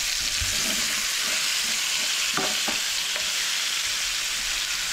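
Cauliflower fries in hot oil with a loud, steady hiss, broken by a couple of faint scraping touches near the middle; no one speaks.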